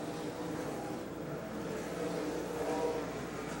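Sprint cars race around a track at the 1995 Sprint Bandit Showdown, their engines blending into a steady, loud roar that holds without a break and swells slightly toward the end.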